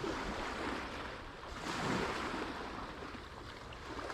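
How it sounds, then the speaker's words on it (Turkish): Choppy sea water sloshes and splashes steadily, with a constant rush of light wind across the microphone, during shore fishing for sea bass. "En azından çalkantı yapıyor suda."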